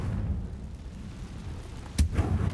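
A Confringo blast spell in Hogwarts Legacy goes off as one sharp, loud explosion with a short rumbling tail, following a couple of seconds of quiet background.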